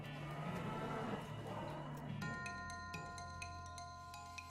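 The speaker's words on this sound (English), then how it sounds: "You hear ominous mooing" Ominous cow mooing from the video game West of Loathing, a low drawn-out moo for the first two seconds, followed by chiming, ringing tones that ring on to the end, with no talk.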